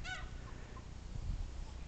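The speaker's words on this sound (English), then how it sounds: "Yes, that's a goose over there." A goose outdoors gives a short honking call at the start, faint and a little distant against a steady background hiss, with no talking.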